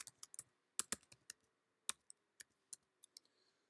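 Typing on a computer keyboard to enter an address into a search field, with close, quiet key clicks coming in quick, uneven bursts and no voices.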